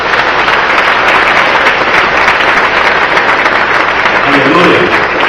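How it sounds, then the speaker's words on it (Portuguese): A church congregation applauds during a Portuguese-language sermon, a dense, steady wash of clapping that fills the whole stretch with voices mixed in underneath. "Então aplauda o Senhor, glória a Deus."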